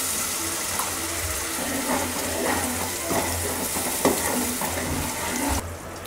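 Tomato gravy hits a pan of fried onion, green chili and ginger paste for chole, giving a steady close sizzle. A few small clicks and knocks sound over it before it drops away abruptly near the end.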